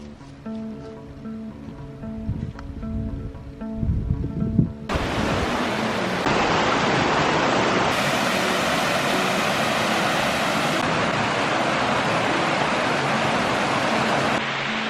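Waterfall at the Foster Falls campground, a steady loud broadband rush of falling water that swells after the first few seconds and holds on continuously, with no talk.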